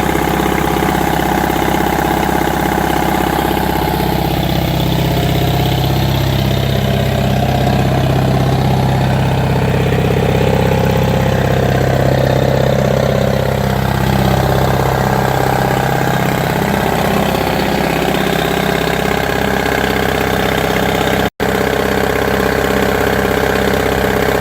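A 1959 International Harvester B275 truck engine idles at close range, a loud, continuous rumbling chug with an uneven knocking beat that slowly steadies, overfueling, running alone without voices.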